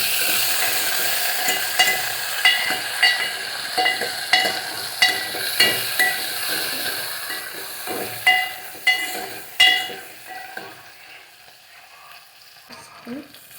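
A ladle stirs food in a cooking pan, giving a series of distinct scraping clinks about every half second over a steady frying sizzle that fades toward the end; no talking.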